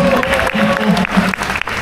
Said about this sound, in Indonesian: Beri tepuk tangan untuk Humaira